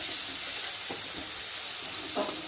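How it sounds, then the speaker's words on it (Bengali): Turmeric and chili powder fry in hot oil in a pan, giving a steady, close sizzling hiss with a few faint stirring scrapes and no talking. "হলুদ লঙ্কা গুঁড়ো মশলাটা ভালো করে তেলের মধ্যে ভেজে নেব"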